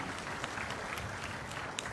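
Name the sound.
audience applause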